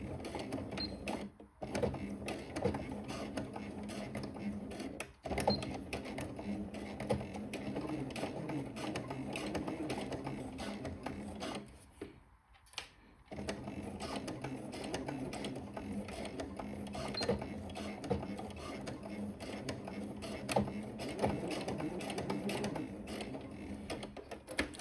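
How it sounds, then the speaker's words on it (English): A sewing machine stitches and backstitches a seam joining an elastic waistband on a jersey skirt, a steady close mechanical whirring with brief pauses and restarts. "be sure to backstitch at the beginning and at the end of the seam"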